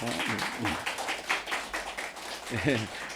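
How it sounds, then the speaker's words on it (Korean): A church congregation gives a short round of welcoming applause for a deacon, scattered clapping mixed with voices talking over it, moderately quiet and uneven. "우리 주님의 사랑으로 환영의 박수하겠습니다"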